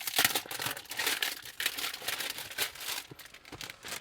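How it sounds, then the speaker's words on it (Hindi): Polythene wrapping is peeled off the box of a Wyve i440 4K dashcam, giving close, irregular bursts of plastic crinkling and rustling with no talk. "तो सबसे पहले ना मैं ये ऊपर जो पॉलीथीन की कवरिंग है इसको रिमूव कर देता हूँ।"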